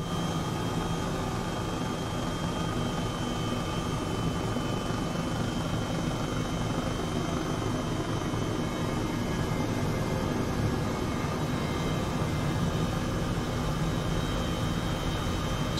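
A simulated helicopter in Microsoft Flight Simulator 2020, flying toward Iceland's Fagradalsfjall volcano, gives a steady, unbroken rotor and turbine roar with constant loudness throughout, no voices.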